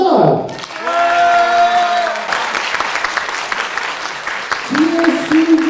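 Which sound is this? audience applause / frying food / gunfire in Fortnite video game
audience applause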